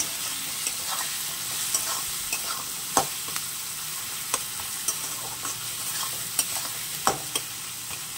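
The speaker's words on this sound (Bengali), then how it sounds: "এবার এটাকে ভালো করে কষিয়ে নেব" A spiced curry is stir-fried in a pan with chilli powder and green chillies, giving a continuous soft sizzle broken by irregular scrapes and knocks of a spoon stirring, close by and with no talking.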